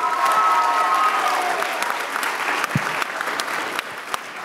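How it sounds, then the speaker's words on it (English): Steady applause from a town hall meeting audience fills the space, a soft dense clatter of hands with a brief tone at the start. "Give a round of applause."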